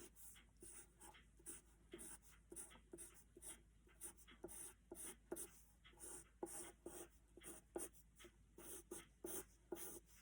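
A number 2 pencil sketches wood grain on paper for a floor plan rendering, making quiet, close, scratchy strokes in a steady stop-and-start rhythm.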